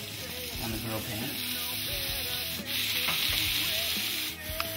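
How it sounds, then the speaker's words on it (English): Jack Daniel's marinated beef kebabs sizzle steadily on an indoor grill pan, a loud continuous hiss with occasional shifts and scrapes as the skewers are moved. "I'm going to go right down on the grill pan."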